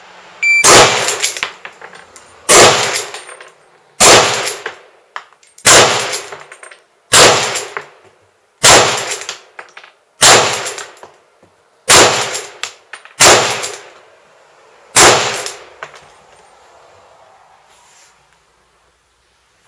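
A Lee Enfield rifle fires rapidly, with nine loud, sharp cracks spaced roughly every one and a half seconds, each followed by a short ringing echo that trails off into quiet at the end.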